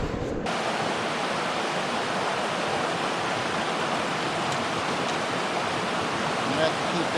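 Steady broadband rush of creek water flowing without a break, close and constant throughout, with a trout stream setting.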